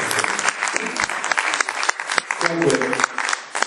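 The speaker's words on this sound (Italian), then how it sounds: "Facciamo un applauso ad Andrea" An audience at a vocal class in Cagliari gives a short burst of applause for a participant named Andrea. The clapping is dense and steady throughout, with voices mixed in.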